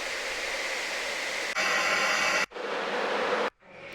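Ambient white-noise fire sample, a steady broadband crackling hiss that holds loud and even, then shifts texture abruptly twice with brief cut-outs between sections, no voices present.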